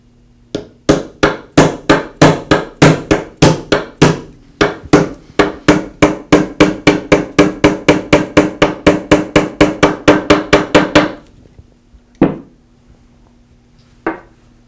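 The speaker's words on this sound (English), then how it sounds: "And I'll use that to tap the bearing into place." A socket tapped with a hammer to seat a bearing on the armature shaft of a Porter Cable sander: a rapid run of about thirty sharp metallic knocks in even rhythm, close and loud, then two lone final taps after a pause.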